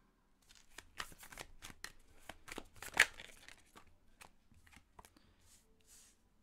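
Tarot cards are shuffled and drawn in a quiet room, giving a string of soft, crisp riffles and slaps with one sharper snap partway through, close and faint with no talking.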